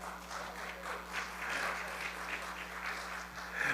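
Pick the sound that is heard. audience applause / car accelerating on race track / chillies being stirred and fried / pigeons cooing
audience applause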